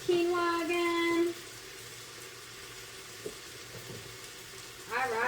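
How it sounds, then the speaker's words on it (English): Quinoa cooking in a pot gets stirred, bringing faint scraping and bubbling texture between bursts of a voice at the start and end. "Let me stir my quinoa again."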